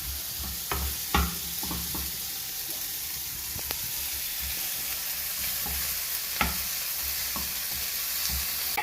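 Food sizzles steadily in a pan on a gas stove while being stirred, with occasional louder scrapes and clacks of the utensil breaking through the continuous frying hiss.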